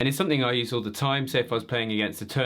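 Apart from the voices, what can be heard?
No distinct noise like a dog, phone or traffic.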